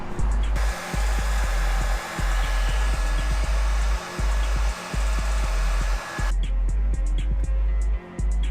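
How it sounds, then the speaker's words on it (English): A loud, steady roar of a heat gun blowing hot air during installation of a carbon fiber wing on a Camaro ZL1 1LE, droning continuously with a slight pulsing and a change in tone near the end. "The heat gun, aka blow dryer, wasn't working for me"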